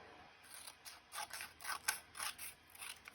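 Scissors trimming scrap paper for Christmas tags, a close run of quick, crisp snips in an uneven rhythm, with about a dozen cuts and nothing else heard.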